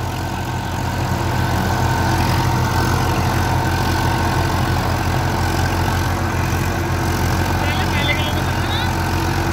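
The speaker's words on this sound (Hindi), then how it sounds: "42 हॉर्स पावर ट्रैक्टर है, चल तो बढ़िया रहा है 8 फुट रोटावेटर पे" A 42-horsepower Massey 241 tractor engine runs steadily under load pulling an 8-foot rotavator, with a deep, continuous drone and a rattling mechanical undertone, close by and unbroken.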